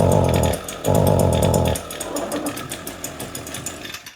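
An ECHO SRM225 string trimmer engine buzzes loudly up close, with two short throaty surges early on, then settles into a rough, pulsing idle that continues to the end.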